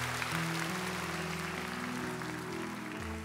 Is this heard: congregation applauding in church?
yes